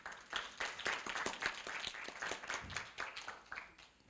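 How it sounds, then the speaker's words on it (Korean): A university audience at a campus startup demo day claps to welcome a speaker onto the stage, moderately faint and lively applause with individual claps audible. "모션 앤 포스처의 김윤진 이사를 뜨거운 박수로 맞이해 주시기 바랍니다"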